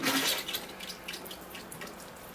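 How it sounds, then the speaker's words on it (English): A light watering poured over bonsai soil topped with sand: a soft, close splash and trickle of water that fades into quieter patters and drips, with no talking. "I'm going to give that one more watering just to settle the sand in a bit."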